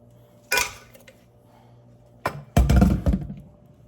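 Cooked pasta tipped into Alfredo sauce in a pan, with sharp clinks and clatters of a utensil against metal, one early clang, then a busier burst of scraping and stirring noise.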